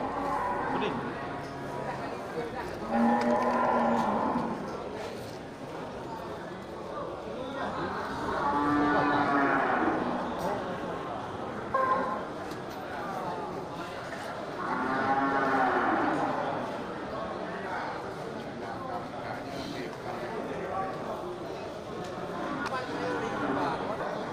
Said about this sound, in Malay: terlihat beberapa ekor sapi besar ya, sapi super ya, sapi banteng